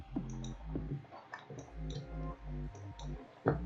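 A mouse clicks repeatedly on a market order in a Bitcoin trading screen, sharp close ticks in an irregular run of about a dozen, with no voice.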